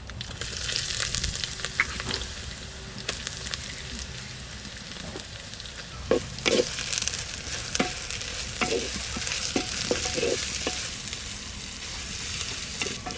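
Native onions frying in oil inside a new clay pot for a village-style chicken leg curry, a continuous close crackling sizzle with scattered louder pops and scraping stirs.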